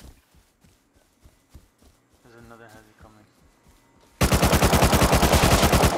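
Gunfire in the console version of the game Rust: a few faint distant shots early on, then a loud, sustained burst of rapid automatic fire closes the clip, with players talking over it.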